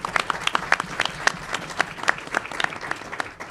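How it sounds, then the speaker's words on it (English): An audience applauds former Judge Nelson A. Diaz and his wife, steady clapping from a crowd holding at an even level for a few seconds with no talk over it. "Let's give them a round of applause"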